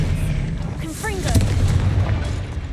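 A booming fiery blast from the Confringo spell in Hogwarts Legacy, a loud burst with crackling tails over steady background rumble and a short rising magical whistle.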